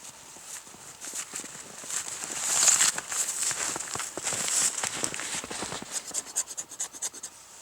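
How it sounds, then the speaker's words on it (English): Back of a Silky folding saw blade scraping fluffy shavings from a piece of fatwood, a steady run of close, rasping scratches repeated in quick strokes, alone without talk. "the backside of a blade on a silky saw really does an excellent job at scraping up fluffy material from a piece of fat wood"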